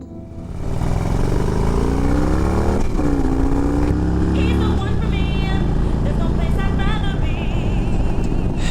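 A 2006 Harley-Davidson FL Tri Glide motorcycle engine runs steadily and loud throughout, its pitch rising and shifting as it revs, with talk heard over the engine.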